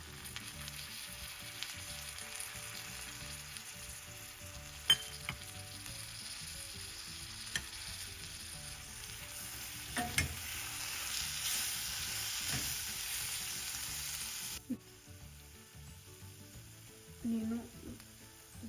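Masala for Telangana bagara rice frying in a pan as chopped mint and coriander go in: a steady, fairly quiet sizzle with a few occasional stirring clinks and scrapes, with no voices.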